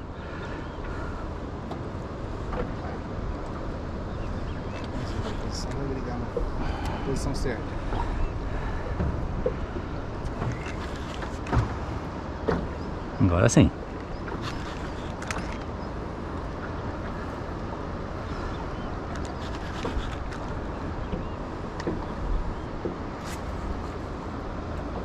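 An outboard motor hums steadily as a fishing boat runs along the Teles Pires river, a constant low drone with wind buffeting the microphone, brief clatter near the middle and a short spoken phrase.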